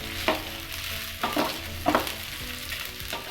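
Chilli garlic sausages fry in a pan with a constant low sizzle, broken by a few sharp louder pops and stirring scrapes, close up and with no talking.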